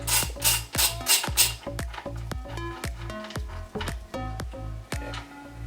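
A ratchet wrench removes the motor bolts on a Kaabo Warrior 11 Pro+ electric scooter. Close, crisp ratcheting clicks come in quick bursts at first, then spaced single ticks with ringing metallic overtones.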